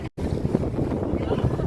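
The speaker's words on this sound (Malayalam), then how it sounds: "അങ്ങനെ നമ്മുടെ ബർദുബായിലേക്കുള്ള നമ്മുടെ ബോട്ട് വന്നു." A passenger boat bound for Bur Dubai moves over open water, a brief burst of rushing water and wash mixed with strong wind buffeting the microphone.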